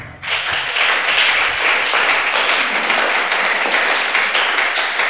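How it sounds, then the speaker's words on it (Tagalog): A church congregation bursts into steady applause after a closing prayer, a dense, sustained wash of many hands clapping at moderate loudness, nearby and unbroken, with no talking. "Mahina ang palakpak."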